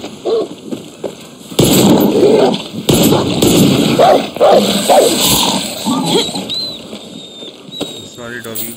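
A dog in the video game Far Cry 6 yelps and barks in short bursts at close range, over game music and effects.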